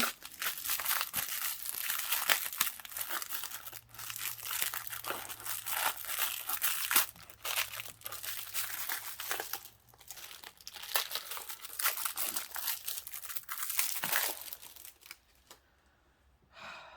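Washi tape is handled, crinkled and torn in close, busy bursts of crackly rustling and ripping that run almost continuously, with a brief quiet patch near the end.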